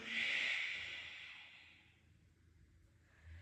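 One slow breath sounds during a hip-opening yoga stretch, a strong airy exhale up close that fades out, followed by quiet and the start of a faint inhale.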